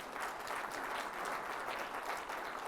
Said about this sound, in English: Everybody give Liliana a round of applause.